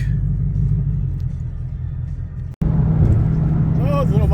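A Ford Mustang GT engine rumbles steadily with a deep low drone throughout, briefly cutting out near the middle before resuming just as strong.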